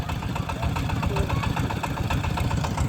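A sand-dredging boat's engine on a river runs steadily with a low, knocking throb, continuous and moderately near, with no talk over it.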